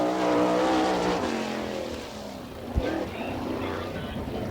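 Engine of a 305 sprint race car on a Maxim chassis, running rough on track in an All Star Circuit of Champions race, a loud uneven roar that fades slightly as the car moves off.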